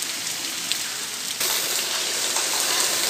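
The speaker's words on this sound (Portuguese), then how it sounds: "Chuva até boa, viu?" Heavy rain pouring steadily in the Piauí backlands during a wet March, a dense broadband hiss of water that grows louder and fuller partway through, with no voices.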